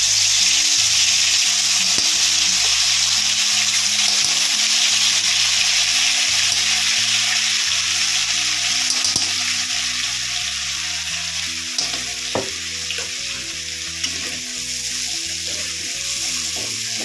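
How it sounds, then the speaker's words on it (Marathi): Spice masala hits hot oil in a pan and sizzles loudly and steadily, with occasional stirring clatter as the frying continues close up. "तेल तापलेलं आहे, आणि याच्यामध्ये टाकूया आपण मसाला।"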